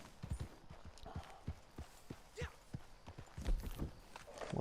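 Horse hooves clip-clop at a steady walking rhythm in the Red Dead Redemption 2 video game, close and distinct over a soft background with some quiet game ambience.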